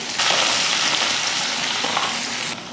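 Mustard seeds, fenugreek, small onions and curry leaves tempering in hot oil, a sudden loud sizzle bursting in and holding steadily close, then easing off at the end.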